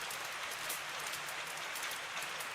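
Steady rain pours onto an outdoor terrace, a dense, even hiss of drops that holds constant from start to finish with no voices or other sounds.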